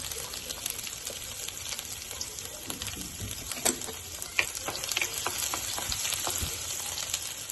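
Ginger and garlic fry in hot oil for paneer chilli, a crackling, spattering sizzle with scattered pops and light stirring clicks, nobody speaking.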